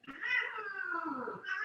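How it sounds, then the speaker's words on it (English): Several cats meow and caterwaul in a continuous, loud, wavering yowl that rises and falls, with a brief dip before it swells again near the end. "Cats are playing in the background"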